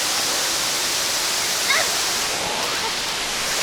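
A secluded waterfall in a Puerto Rico jungle pours steadily, a dense broadband rush of falling water filling the scene at close range, with a brief faint splash or sound partway through.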